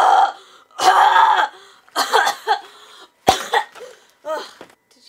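Cartoon character coughing in several harsh, close bursts over a few seconds, with throaty rasping and a gulping, retching quality between the fits, as if hacking up a Christmas cracker.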